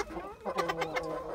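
Chickens and a rooster in a backyard coop, with close, overlapping clucks and short harmonic calls in a busy flurry.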